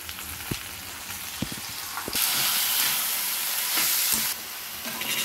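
Raw prawns fry in oil along with okra pieces, with a steady hiss and a few spatula taps early on, then a louder, brighter burst of sizzling in the middle before it settles back down.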